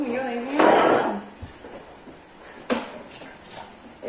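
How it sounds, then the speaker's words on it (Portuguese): A baby knocks and clatters kitchen pots and pans, with one loud metallic rattling burst followed by scattered lighter clanks and taps nearby. "tá querendo derrubar as panelas"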